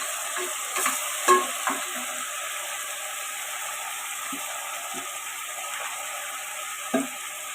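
Coriander and fenugreek leaves sauté in oil with turmeric powder in a home kitchen, giving a steady low frying hiss broken by a few soft clinks and scrapes of stirring, with no voices.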